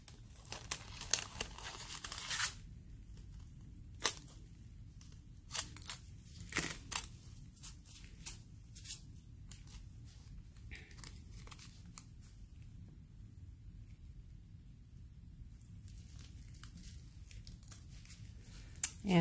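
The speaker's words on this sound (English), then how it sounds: "I gotta cut this." Scissors cut through thin craft foil for decorating painted rocks, giving a series of close, quiet, crinkly snips and rustles with short pauses between cuts and no talking.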